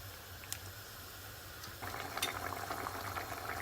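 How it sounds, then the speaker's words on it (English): Sea bass curry with added salt simmers and boils in a pot, giving a faint, steady bubbling hiss that grows slightly busier partway through, with no talking. "Add some salt to it and let it boil for some time."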